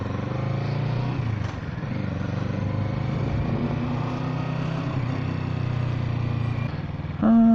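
A Kawasaki Z650 motorcycle's engine drones steadily and loud from close by, its note shifting as the bike brakes hard, with a sharper rise right at the end.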